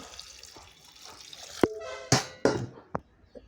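Water tipped into a pressure cooker over taro pieces and mango leaves, heard as a few short splashing pours and drips, close by and moderately loud, with quiet gaps between them.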